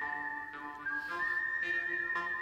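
A steady whistled melody from a western film score, clear and sustained with sliding pitch changes and a few breathy accents, heard alone.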